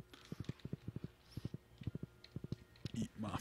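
A horse ridden in Stardew Valley makes quick, light clip-clop hoof steps in short rhythmic bursts, with a brief faint sound near the end.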